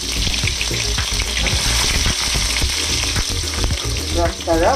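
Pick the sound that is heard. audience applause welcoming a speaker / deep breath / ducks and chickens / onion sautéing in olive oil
onion sautéing in olive oil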